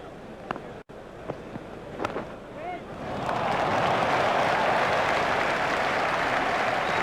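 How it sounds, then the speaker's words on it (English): Crowd roar in the EA Sports Cricket 2002 video game during an India vs Kenya World Cup match, rising after a few seconds of quieter stadium ambience and holding loud and steady to the end. "crowd were brought to their feet by that shot"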